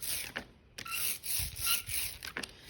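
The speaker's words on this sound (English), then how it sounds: "You wanna roll your brayer until you hear this sound" A soft, sticky rolling hiss with repeated rubbing passes, faint and close, as a printmaking brayer is worked back and forth through tacky printing ink.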